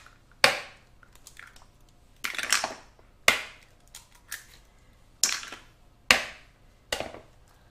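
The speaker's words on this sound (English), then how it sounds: "So I've got the 3 eggs going into here." Three whole eggs cracked into a mixing bowl for a blueberry and lemon layered sponge cake, a series of sharp close taps and cracks against the rim, each followed by brief shell crackle and drip, alone without talk.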